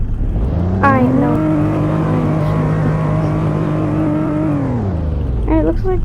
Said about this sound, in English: Hard kind of off-roading in this truck.